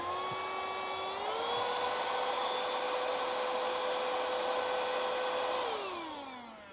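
An ionvac PowerMax vacuum cleaner by tzumi runs with a high, whining motor tone that rises in pitch as it picks up debris, holds steady, then drops as it winds down, loud and close with no talking.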